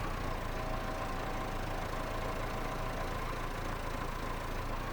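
A tractor engine idles steadily in Farming Simulator 25, a constant mid-to-low rumble with a faint tonal hum running unchanged throughout, heard alone with no talking.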